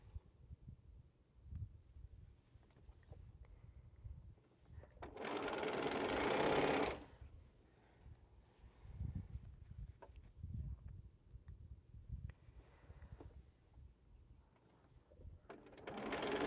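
Bernina sewing machine stitching quilt seams for mini pinwheels, a quiet room with soft background handling, then one loud steady burst of rapid stitching lasting about two seconds before it stops.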